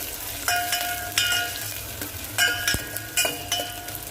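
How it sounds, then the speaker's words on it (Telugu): Curry leaves sputter and crackle in hot oil in a pan with onions, a steady close sizzle broken by sharp pops and the clink of a spoon stirring against metal. "ఇవి బాగా ఫ్రై అవ్వాలండి"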